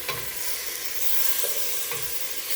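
Mixed vegetables sautéing in a pan for chicken biryani, a close, steady hiss of sizzling with a couple of soft stirring scrapes, no talk.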